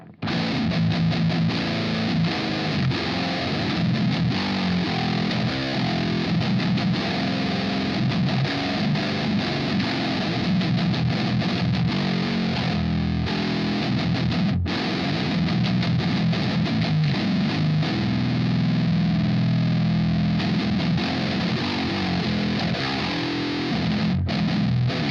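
Heavily distorted electric guitar runs through a Line 6 POD HD amp model styled after the Peavey 5150, with a dark, saturated high-gain tone chugging and ringing continuously, loud and alone with no talking.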